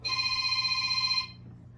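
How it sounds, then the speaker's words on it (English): Phone ringing with a bright, steady electronic ring that sounds alone for just over a second and then cuts off abruptly. "his phone's ringing"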